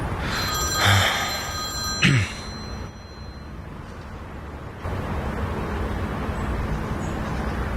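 A telephone rings in two short bright bursts, fairly loud and close, then gives way to a low, steady background hum with no one speaking.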